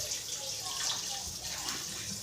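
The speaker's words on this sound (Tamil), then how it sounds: "அதை அந்த மசாலாவை அரைச்சி தேவையான அளவுக்கு தண்ணியோடு ஊற்றிக்கிட்டு" Ground masala poured in with water for a spicy gut (kudal) gravy, making a continuous close splashing, gushing pour that runs steadily with no clear talk over it.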